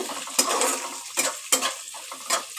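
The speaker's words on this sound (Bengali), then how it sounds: "এইবার পেঁয়াজটাকে আমি একটুখানি নাড়াচাড়া করে নেবো ভালো করে" Onion stirred and fried in a pan, with sharp spatula scrapes against the metal every second or so over a constant close sizzle.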